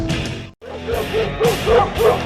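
A dog barks and yips repeatedly at close range, loud and insistent, with whimpering tones mixed in and a brief gap near the start.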